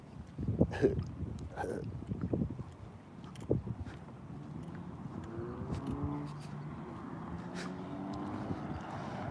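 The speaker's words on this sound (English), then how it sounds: "Hearing this loud engine sound over there somewhere." Loud car engine somewhere along a street: a steady low rumbling drone with shifting pitch, heard at a distance under wind noise and a few nearby knocks, with no talk.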